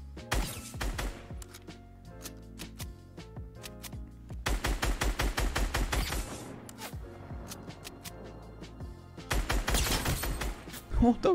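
Rapid gunfire bursts in Fortnite, sharp repeated shots in clustered volleys separated by short pauses, fairly close and crisp, with game sounds between.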